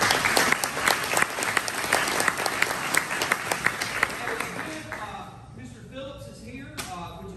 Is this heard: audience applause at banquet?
yes